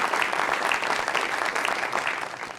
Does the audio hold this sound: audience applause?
yes